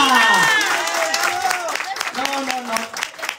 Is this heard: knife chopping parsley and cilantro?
no